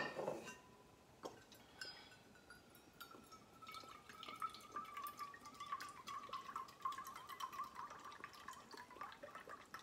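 One cup of apple cider vinegar poured into a container for homemade garden relish: a faint, steady trickle of liquid with a few light clinks and drips, heard up close.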